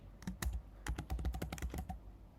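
Computer keyboard keys clatter in a quick burst of typing, a brief pause followed by a dense run of close, loud keystrokes over a low background hum.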